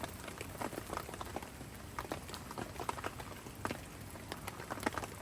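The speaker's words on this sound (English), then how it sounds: "as you can hear, the wind and rain setting" Steady rain pattering and splashing on a surface during a fishing session at a lake, with a constant rushing wash of southwesterly wind and dense irregular drops throughout.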